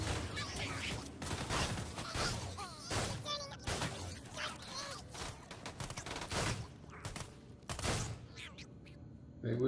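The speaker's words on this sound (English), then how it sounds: "Try out the new Sledge's shotgun" Sledge's shotgun fired repeatedly in the video game Borderlands 2, a string of loud sharp blasts at irregular intervals mixed with clanking game effects and a voice talking over them.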